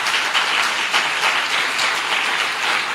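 Steady applause from a church congregation during a Hindi sermon, a dense even wash of many hands clapping that holds at full strength without pause.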